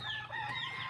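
Brief call from a pet rooster named Norbin, a drawn-out crow-like note blending into clucking, fairly close and continuous over a low hum, with no voices.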